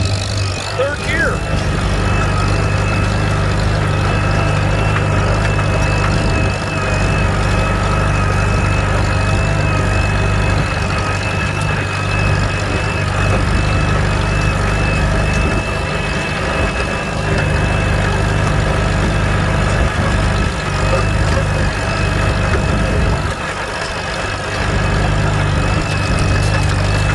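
A Farmall Super C tractor in third gear at full throttle during field work holds a loud, steady engine drone for the whole clip, with no letup and no voices heard.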